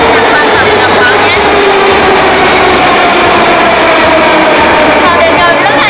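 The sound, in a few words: Moscow metro subway train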